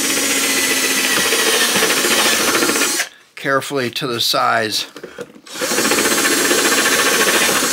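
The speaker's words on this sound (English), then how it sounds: "then coming for the front, we'll take a step bit and drill it" A power drill with a step bit bores through the wooden top of an archtop guitar for a potentiometer hole, loud continuous whirring that stops briefly while someone speaks, then resumes.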